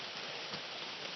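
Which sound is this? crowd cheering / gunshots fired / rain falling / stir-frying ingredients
rain falling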